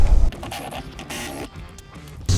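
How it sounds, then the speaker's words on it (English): A wrench works loose 14mm seat bolts on a Toyota Tacoma floor, giving a short burst of close, rapid mechanical clicks and ratcheting taps with a few dull knocks. "Now let's undo these 14mm bolts."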